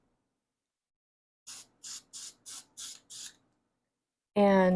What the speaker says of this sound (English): Like I said, every spring I have to spray this up.